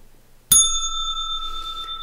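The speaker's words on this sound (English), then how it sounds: "That deserved a bell." A single bright bell strike rings out sharply, then its clear metallic tone hangs and slowly decays for over a second with no talking.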